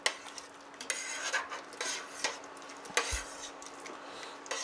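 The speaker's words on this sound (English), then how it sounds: "And you want to go ahead and stir it." A wooden spoon stirs Italian beef stew in a pot, giving irregular soft scrapes and knocks against the pot over a faint simmer, fairly quiet and close, with no talking.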